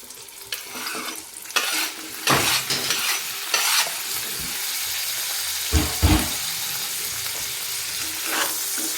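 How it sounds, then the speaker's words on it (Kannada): Tomato lands in a pan of browned onions and sets off a loud, continuous sizzle, broken by a few sharp scraping stirs and thuds, close up with no voices. "ಈಗ ಟೊಮೆಟೊ ಹಾಕ್ಕೊತೀನಿ"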